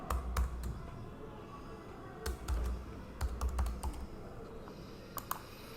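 Someone types a password on a computer keyboard, with soft clusters of key taps in irregular bursts and pauses, close and quiet, no talking.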